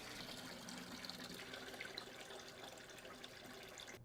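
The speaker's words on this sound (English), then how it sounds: "Now run water through the hoses for a few seconds to clear the lines." Water runs steadily from a faucet through washing machine hoses, a faint continuous trickling hiss with no pauses or voices.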